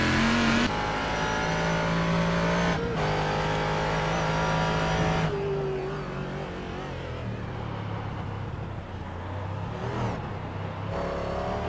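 A Ford race car engine revs hard during a multi-class race at Sonoma, rising and falling through gear changes, loud and close, with a roaring pass and a faint tire squeal amid steady track noise.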